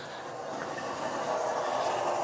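A model railroad locomotive runs along a layout, giving a faint, steady mechanical hum and hiss that swells slightly as it moves, with no talking.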